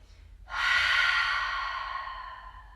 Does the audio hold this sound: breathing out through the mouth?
yes